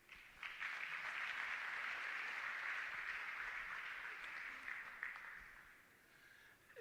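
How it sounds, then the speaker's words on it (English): Audience applause for a general at the launch of a campus community safety forum at Mopani TVET College, a steady wash of clapping from a crowd that rises quickly, holds for several seconds, then thins out near the end. "Let's give him another round of applause"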